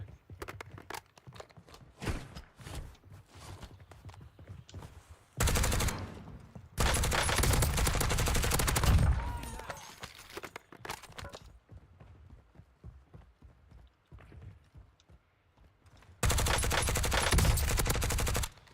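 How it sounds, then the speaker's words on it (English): Gunfire in the video game Call of Duty Warzone, with long sustained bursts of automatic fire separated by quieter stretches of scattered shots and footsteps, loud and close. "Taking effective fire."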